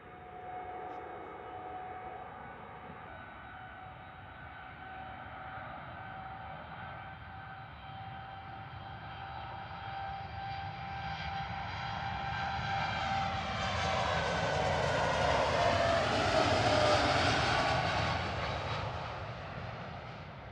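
A 7-year-old Boeing 787-9 departs Manchester Airport for Tenerife South, a steady whining engine tone that swells into a loud, rising jet roar as it powers past, then begins to ease.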